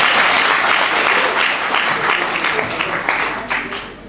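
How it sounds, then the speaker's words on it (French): Loud, dense applause from an audience at a press conference, sustained rapid clapping that stays close and full before easing slightly toward the end. "Applaudissez quand même."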